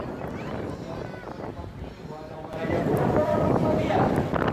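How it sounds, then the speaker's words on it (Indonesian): Strong wind gusting across an outdoor flower garden after heavy rain, a steady broadband rush that swells louder partway through, with voices talking over it. "ini kita lihat anginnya sangat kencang sekali"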